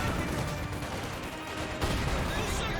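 Dense, continuous battle din from a Company of Heroes 2 match: rapid machine-gun fire from a German MG42 mixed with other shots and bursts, loud and steady throughout with no clear pauses.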